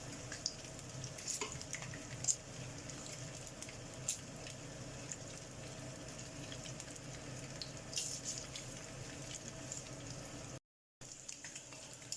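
Meatballs sizzle and fry in a pan while being moved around, a steady close crackle with scattered scraping clicks from the utensil and a brief dropout near the end; no one speaks.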